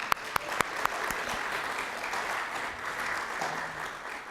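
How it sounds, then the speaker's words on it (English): Applause from a Veterans Day ceremony audience starts with a few scattered claps, then swells into steady, moderately distant clapping from a crowd that continues to the end. "I heard somebody starting to clap, so yes."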